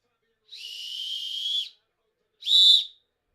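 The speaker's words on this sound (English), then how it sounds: "everybody prepare your dogs for the whistle" A referee's halftime whistle at a Belgium versus Spain World Cup quarter-final football match: one long shrill blast followed by a short sharp second blast, clear and alone without talk.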